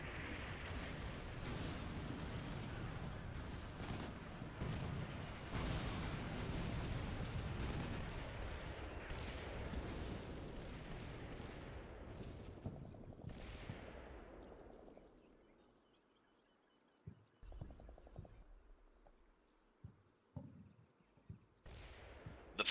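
Tank cannon fire and gunshots in the wargame Combat Mission Black Sea, with heavy booming blasts and rumbling for about fifteen seconds, then sparse scattered shots over quieter background.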